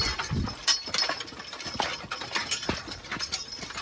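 Two-year-old draft horse colts hitched as a pair to a cart, their hooves clip-clopping in an irregular, fairly close rhythm of light strikes.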